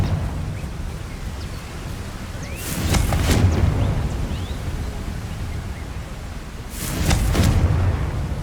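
A Confringo fire spell goes off twice in Hogwarts Legacy, each time a loud, sudden explosive burst that rumbles and fades, separated by a few seconds of low ambient hiss.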